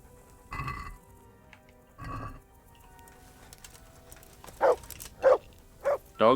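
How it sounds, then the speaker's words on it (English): Dog barking in the medieval video game Kingdom Come: Deliverance: two deeper woofs early on, then four sharper, louder barks in quick succession near the end, with no talk over them. "Dog, please don't bark while I'm doing this."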